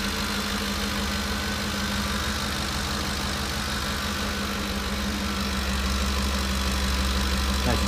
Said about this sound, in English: Running nice and strong. That's a 2010 Ford F-150 XLT 4x4.